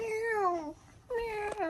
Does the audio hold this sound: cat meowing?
yes